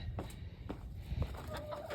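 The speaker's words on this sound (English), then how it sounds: "Let's go check out the chickens real quick." Chickens cluck softly nearby in short, irregular bursts over a low background rumble.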